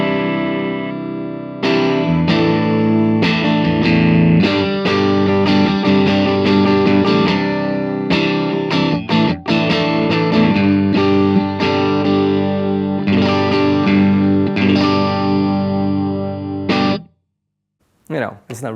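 Electric guitar through a budget Fender or Jet City tube combo amp at practice volume, a slightly driven clean tone with rhythmic chords and single notes, fairly loud, ending abruptly near the close.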